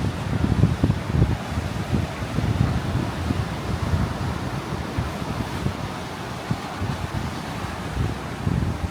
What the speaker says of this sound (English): The waves are beautiful.